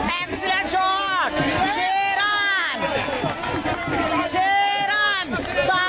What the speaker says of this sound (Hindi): तालियों की गूंज, सीटियों की गूंज